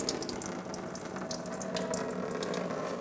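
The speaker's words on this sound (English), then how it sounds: "We're going to open it, and it's going to allow the coolant to start draining." Coolant drains from the radiator drain valve of a 2014-2019 Toyota Highlander, a steady trickling splash of liquid into a drip bucket, close and continuous, with no speech.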